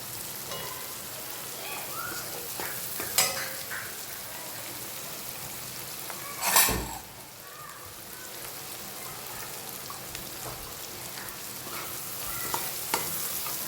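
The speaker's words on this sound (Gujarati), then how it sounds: "થોડી વાર ડુંગળીને પાકવા દઈએ, પછી આપણે એમાં પાલક એડ કરીશું." Onions sautéing in a pan over a full gas flame give a steady, close, rain-like sizzle throughout, broken by a few sharp stirring clatters.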